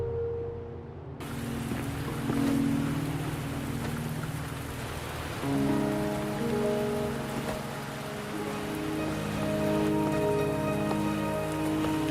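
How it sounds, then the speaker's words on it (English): Steady rain patters on a surface with a low rumble beneath, continuous and moderately loud, with no voices, in the video game Wuthering Waves. "Are you trapped here by the rain?"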